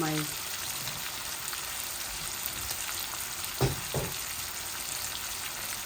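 Pangas fish with turnip fries in the oil released from the fish, a steady close sizzle with a couple of brief knocks of a utensil against the pan, and a voice speaking briefly near the start.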